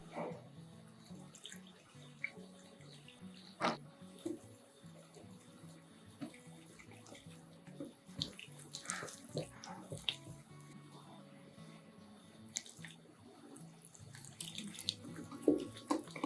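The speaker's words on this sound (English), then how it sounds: "Add 50 milliliters water." About 50 millilitres of water poured into a fried rice mixture with tapioca flour, salt, pepper, sugar and mushroom powder, heard up close as light, uneven splashing and trickling with small clinks, set against quiet kitchen ambience.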